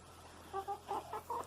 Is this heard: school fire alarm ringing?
no